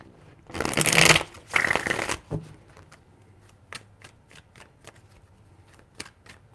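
Tarot cards are shuffled in two loud riffling bursts, followed by a run of soft, sharp taps and clicks as the deck is handled, close up and without talk.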